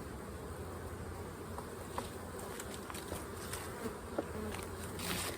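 Honey bees buzz around an open hive during a fall inspection, a continuous close, moderately quiet hum with individual bees droning past and faint handling clicks, no talking.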